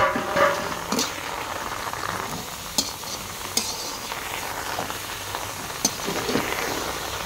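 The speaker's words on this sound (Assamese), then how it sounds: "এতিয়া 5 মিনিট এনেধৰণে ভাজি দিম" Onion and spice masala fries in a pan with a steady, close sizzle and a few sharp clicks of stirring, with no voices.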